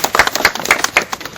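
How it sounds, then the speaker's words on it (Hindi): Crowd applause at a rally welcoming a village sarpanch, brisk uneven clapping from many hands, loud and close in bursting peaks. "जोरदार तालियां"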